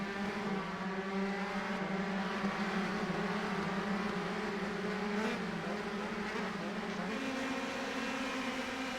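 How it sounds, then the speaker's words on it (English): Race cars charge down the backstretch toward the chicane at the Grand Prix of Alabama, a dense, steady engine roar from several cars blending into one sustained drone at middle distance, with no voices over it. "All the cars charging down towards the chicane on the backstretch"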